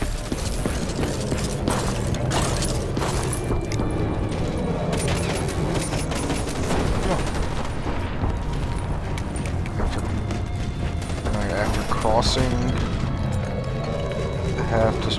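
Gunfire and explosions in a co-op Call of Duty: Black Ops 3 match: dense, continuous battle noise with rapid shots, booms and clattering mechanical sounds, loud throughout, with voices talking over it.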